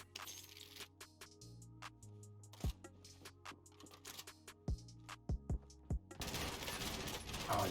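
Shooter video game gunfire with an AUG rifle: a sparse string of sharp, separate shots over a low steady game hum, ending in a louder burst of noise.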